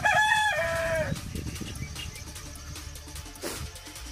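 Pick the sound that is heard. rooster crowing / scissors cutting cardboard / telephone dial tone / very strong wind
rooster crowing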